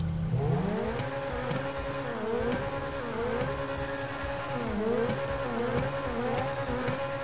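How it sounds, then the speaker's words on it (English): Continuous car engine drone in the video game GTA 5, with repeated rising and falling revs, loud and close, no talking. "You guys wanna hear the engine?"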